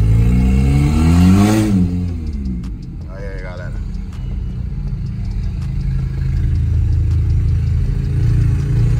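A VW Jetta with a straight-through exhaust revving. The engine sweeps up in pitch and falls back early on, then settles into a loud, deep, rumbling idle that continues throughout.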